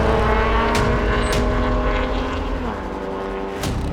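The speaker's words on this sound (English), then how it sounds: "She likes the upper RPM, classic Porsche engine." A Porsche 996 race car engine at high RPM in a 24 Hours of LeMons endurance race, a loud, steady in-car drone with strong engine harmonics and a pitch shift partway through, with brief clicks above the roar.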